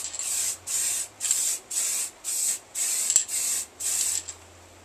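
Spray gun laying a light tack coat on a Harley 883 Iron belly pan in a garage: eight short, even hissing bursts in a steady rhythm, close and fairly loud, with brief pauses between passes.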